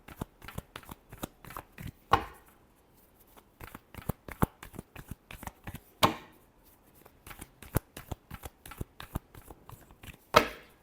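Tarot cards shuffled by hand in repeated quick riffles and flicks, crisp and close, with a few louder slaps at intervals and short pauses between bursts, no talking.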